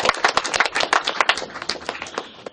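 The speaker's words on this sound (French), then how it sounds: "Je crois qu'on peut l'applaudir." Applause from guests at a cinema and photography museum exhibition opening: a burst of individual, fairly close hand claps that thins out and fades over a couple of seconds.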